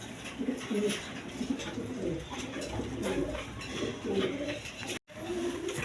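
A pair of light-coloured racing pigeons at a pigeon farm coo in low, repeated throaty bursts close by, with background noise throughout and a short cut near the end.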